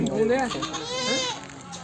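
A goat bleats at a goat market in Harike Kalan, one long, wavering, close cry with a quivering tremble, set against background chatter from people nearby.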